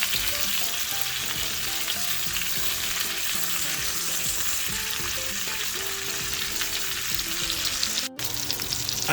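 Chicken searing in a hot pan for chicken Marsala, a loud dense sizzle holding steady throughout with crackling spits, close up, broken only by a brief dropout near the end.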